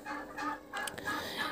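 Guinea fowl, a new bird brought to a farmyard flock, calling with repeated harsh, raspy cackles in several bursts, fairly close and moderately loud, with no talking.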